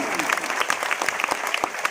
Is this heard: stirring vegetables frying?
no